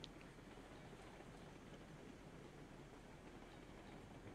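A train in Railroads Online rolling along the track, a faint, steady rumble with soft clattering, continuous and distant with no voices.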